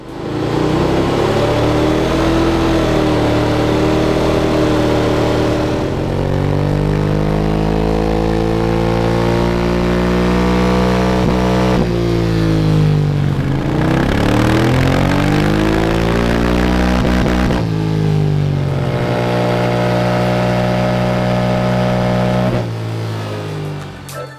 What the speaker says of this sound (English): We're going to get it run up on the dyno, see how compromised it is with the fueling